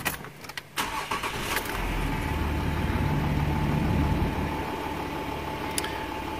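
A brief cranking burst, then a Ford Territory SZ diesel engine catches after an oil change and settles into a steady, low idle that runs evenly to the end.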